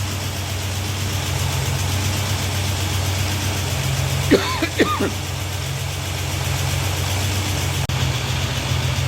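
A Chrysler Valiant engine idles slightly high with a steady low rumble throughout, close by, with a brief chirping sound briefly rising above it midway.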